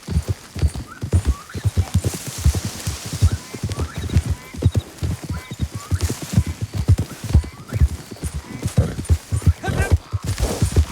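Horse hooves clip-clopping in a steady trotting rhythm with occasional neighs, from a horse in the video game Red Dead Redemption 2, fairly loud and continuous throughout.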